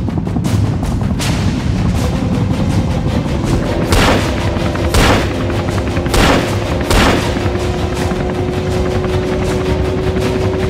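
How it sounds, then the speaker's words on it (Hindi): Gunfire in an action film: four distinct loud shots ring out about a second apart against a busy background rumble, with a sustained tone rising behind them and no talk. "गोली चलांदा पाजी"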